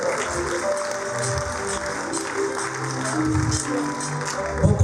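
Church congregation applauding together at a women's ministry service, a steady broad wash of clapping with a few voices and cheers mixed in, swelling slightly near the end.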